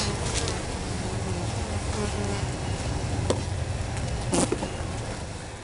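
Honey bees buzz steadily and densely from a top bar hive opened for inspection in July, a close, continuous droning swarm with a few louder individual bees passing near, and no one talking.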